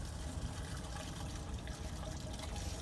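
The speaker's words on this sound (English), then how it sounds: "You can look down here, and that's all your poopy water going out." Wastewater gravity-draining from an RV black tank through the outlet, a continuous rushing, gurgling flow of liquid that stays steady and fairly close throughout, with no voices.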